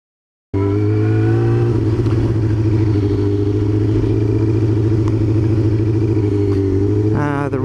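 A Yamaha R6 motorcycle runs loud and close throughout, a steady engine drone with slight pitch shifts, then a quick rise in revs near the end.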